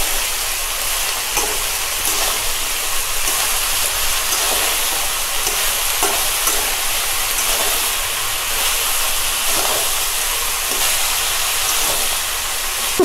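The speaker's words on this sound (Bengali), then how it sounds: "লাউ দেওয়ার সঙ্গে সঙ্গে আমি কাঁচা লঙ্কা দিয়ে দেব। এবার আমি একটু ভালো করে নেড়ে চেড়ে" Bottle gourd and green chilies frying in a pan give a loud, steady sizzle throughout, with faint scraping of stirring underneath and no voices.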